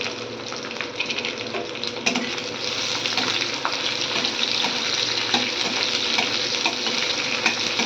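Chopped onion fries in a hot pan with a loud, steady sizzle and occasional stirring scrapes throughout, heard up close with no voices.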